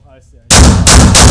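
Rapid gunshots from a real firearm fired at a barricade during daylight tactical shooting practice, a loud burst of three closely spaced cracks that begin after a brief quiet moment.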